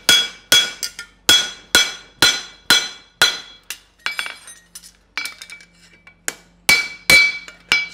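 A hammer strikes hot metal on an anvil in a steady forging rhythm, sharp ringing blows with bright metallic overtones, about fourteen close, loud hits with a brief lighter patter midway.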